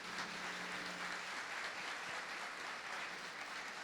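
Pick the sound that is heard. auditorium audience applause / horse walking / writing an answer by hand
auditorium audience applause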